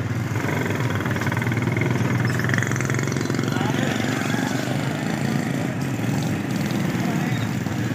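An unregistered motorcycle stopped by police in Rahim Yar Khan idles nearby, a steady, even engine hum that holds at a constant level for the whole span.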